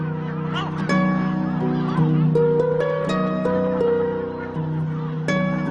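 Yellow-legged gulls call at the Medes Islands, loud honking and yelping cries overlapping in quick succession close by, with several birds calling at once.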